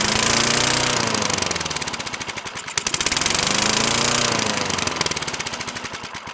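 A small Craftsman lawn mower engine with a faulty carburetor roars at high, uneven revs, surging and dipping as it races without throttle control, loud and close throughout.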